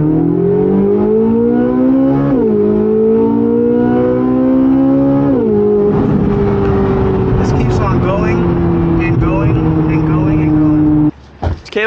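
A Chevrolet Corvette C8 Z06 in track mode accelerates hard, its loud engine note climbing steadily and dropping back at each quick gear shift before rising again, then cutting off abruptly near the end.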